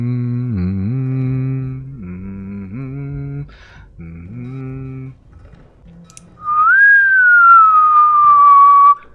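A person whistling while playing the game One Hand Clapping: a loud, sustained whistled tone that bends upward and then slowly glides down, coming after hummed vocal notes.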